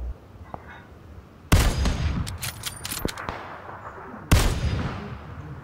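Gunfire in the video game PUBG: two loud booming shots separated by a few seconds, with scattered sharper cracks between them, over quiet background.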